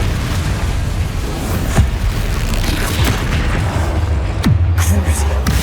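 Confringo blasting spells explode in the Hogwarts Legacy video game, with loud booming blasts rolling over a steady roaring rumble and sharp bursts landing at intervals.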